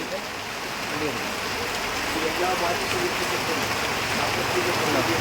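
Heavy rain drums on a roof sheet over a home, a constant, even hiss and patter that fills the whole stretch without letting up.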